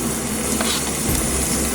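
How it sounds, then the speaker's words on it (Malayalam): Sliced onions are added to hot oil in a pan while preparing chicken masala, giving a steady, close sizzle and crackle of frying with faint stirring and no voices. "അതിനകത്തോട്ട് അരിഞ്ഞു വെച്ചിരിക്കുന്ന സവോള ആദ്യം ഇടാം."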